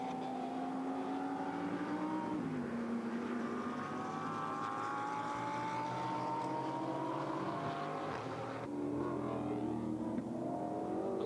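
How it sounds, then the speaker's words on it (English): Mercedes GT4 race cars circling the Nürburgring during qualifying, a continuous distant engine drone that rises and falls in pitch as the cars accelerate and shift, steady and fairly faint throughout. "I do love the sound of those Mercedes, though. They sound like Messerschmitts."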